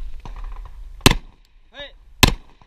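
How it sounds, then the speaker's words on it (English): Two sharp, loud gunshots ring out about a second apart at a shooting competition stage, with a brief voice call between them and low background noise. "Alright, shooter, stand by. Fire!"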